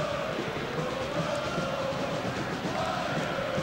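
Soccer crowd at Toyota Park during a Chicago Fire versus Houston match, a steady broad roar of many voices with the supporters' section chanting, continuous and fairly distant without clear breaks.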